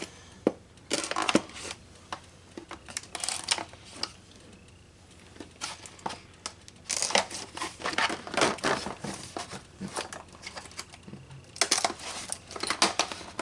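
Packaging tape being peeled and crinkled off the box of a 3/8-inch drive Icon extension set, with irregular crackling bursts and rustles close up and no talking.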